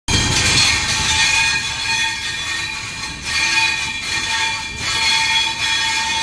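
Train at a railway station with a steady loud rumble and whine of carriages, faint rail squeals and metallic clatter running throughout, with no one speaking.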